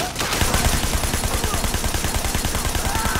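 Assault rifle fire in the video game Sleeping Dogs rattles in a fast, steady automatic stream of close, loud shots that runs unbroken through the whole stretch.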